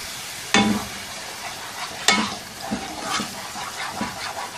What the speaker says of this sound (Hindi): 2-3 मिनट अच्छी तरह से पकाएंगे हिलाते हुए।